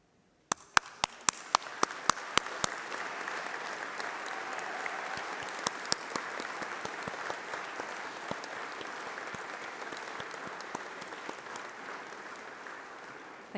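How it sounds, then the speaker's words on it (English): A graduation ceremony audience applauds, starting with a few sharp separate claps and quickly swelling into a steady, fairly distant round of clapping that carries on to the end. "we give you a round of applause"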